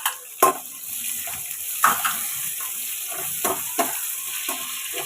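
Onions dropped into hot oil with curry leaves for a lentil dal curry, hissing and sizzling close by under a bright steady fizz, with several sharp clatters of stirring.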